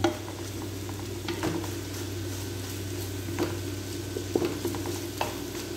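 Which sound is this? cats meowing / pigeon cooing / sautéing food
sautéing food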